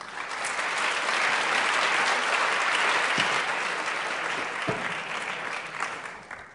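An audience gives sustained, dense clapping as Secretary of State John Kerry is welcomed at a U.S.-China high-level event. The applause swells, holds steady, then gradually thins toward the end.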